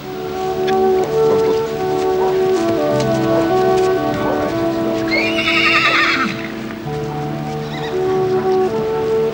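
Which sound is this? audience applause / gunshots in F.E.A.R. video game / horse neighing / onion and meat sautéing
horse neighing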